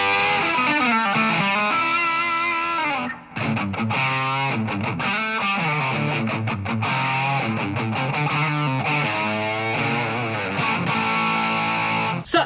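Electric guitar played through a distortion pedal with the gain turned down to an overdrive-like crunch, sustained chords and notes ringing loud and continuous with brief breaks between phrases.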